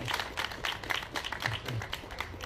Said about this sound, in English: Give these young people from Charlotte a big round of applause.